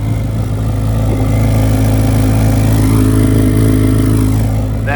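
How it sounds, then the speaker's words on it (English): A 2024 Chevrolet Corvette Z06 1LZ with a flat-plane-crank V8 rumbles at a close, loud, steady idle, its deep exhaust tone holding throughout with no talking. "That exhaust is menacing."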